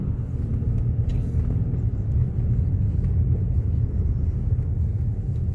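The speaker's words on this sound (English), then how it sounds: "That's how you take out your car" A car pulls out of a snow-packed parking spot during a New York City snowstorm, its engine giving a steady, close, low rumble that holds at an even level throughout.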